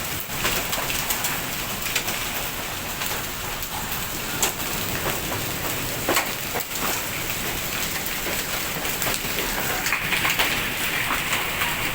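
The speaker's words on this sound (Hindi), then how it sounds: "ये देखो कितने बड़े बड़े ओले गिर रहे हैं।" Large hailstones pelt a road outdoors in a dense, steady roar of impacts with a few sharper cracks, while a bird coos faintly in the background.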